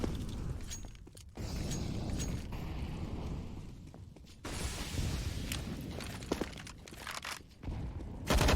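Grenades bursting and rifle fire spraying in Counter-Strike on the Overpass map, a busy run of thuds, cracks and rattling shots with footsteps between them, loud and continuous with brief drops.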